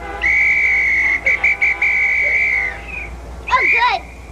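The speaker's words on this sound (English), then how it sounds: "There's a policewoman with her whistle." A police officer's whistle gives a long, shrill blast that breaks into a few quick chirps and trails off, then one more short trill sounds.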